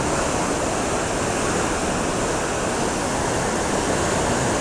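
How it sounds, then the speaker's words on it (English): Water roaring through the partly opened floodgates of Denison Dam, a loud, dense, unbroken rush like a waterfall that stays constant from start to finish with no voices. "This is the floodgates open, and they're not even open full way."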